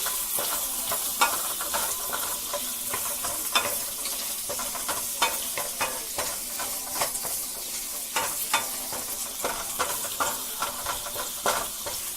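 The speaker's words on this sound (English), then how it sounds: "So here we have our ginger and our shallots are all going in. And we're going to saute that down really good." Ginger and shallots sauté in a pan, giving a continuous close-up sizzle broken by regular scraping stirs and soft clicks of a utensil against the pan, with no voices throughout.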